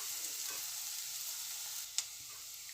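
Garlic and chilies sauté in hot oil, giving a soft, even sizzle heard close, with a single sharp tap of a utensil against the pan near the end.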